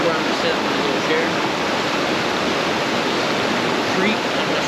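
A rushing creek flows beside a waterfall on a hike, a loud, steady, broadband roar of water that fills the whole clip without letup.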